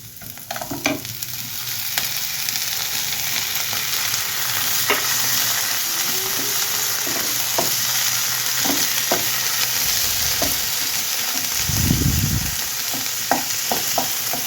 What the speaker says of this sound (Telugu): ఇందులో కొంచెం క్యారెట్ తురుము వేయించుకుందాము